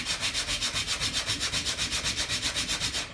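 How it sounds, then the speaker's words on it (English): Steady back-and-forth sanding on wood, a rhythmic rasping with even strokes about six per second, close and continuous with no voices. "So I have a little sanding to do"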